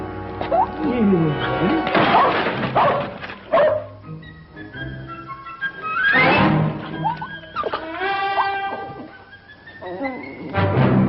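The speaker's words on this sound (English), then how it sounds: "If you ain't the beatin'est dang dog I ever seen." A dog barks, yips and whimpers in short bursts in an old Western television episode, mixed with someone talking and thumping movement nearby.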